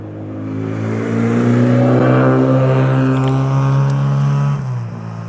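White car racing past at the Doune Hillclimb, a loud engine note that rises as it nears, holds a strong revving drone, then drops away as it passes, with no talk.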